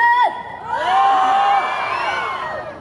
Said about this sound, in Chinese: 让我听一下我们很大声的尖叫声